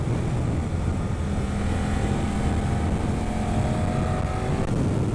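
A Suzuki GSX8S motorcycle cruises steadily on a road toward the Piton de la Fournaise volcano, its engine drone mixed with constant wind rush, continuous and fairly loud with no speech.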